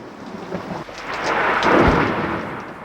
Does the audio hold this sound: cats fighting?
no